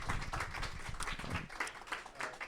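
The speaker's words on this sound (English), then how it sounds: "So big round of applause." A small audience at a web accessibility meetup gives a brief round of clapping, quiet and somewhat distant, lasting a couple of seconds.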